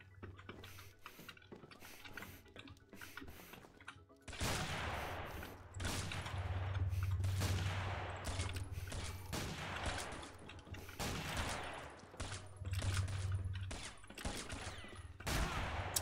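Rapid bursts of gunfire from the online shooter game Combat Arms, with dense automatic volleys starting a few seconds in and continuing almost throughout, loud and close, with scattered single shots and mechanical clicks.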